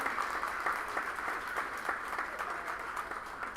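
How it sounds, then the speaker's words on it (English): An audience at a Board of Education meeting applauding students, a fairly quiet, steady patter of many hands clapping in a room. "Let's give these students a round of applause for their hard work"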